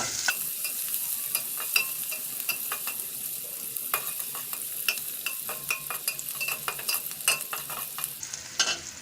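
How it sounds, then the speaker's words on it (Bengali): Onion frying lightly in a pan, a continuous bright sizzle with repeated stirring scrapes and soft clinks, close and steady throughout. "এখন আমি পেঁয়াজটাকে একটু হালকা ভেজে নেব।"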